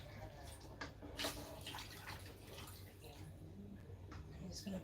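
Water splashes and trickles while a bowl is rinsed during soup preparation, a steady low wash with a few brighter splashes and drips at close range and no talk.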